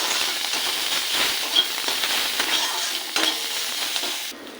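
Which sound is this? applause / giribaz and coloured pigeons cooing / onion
onion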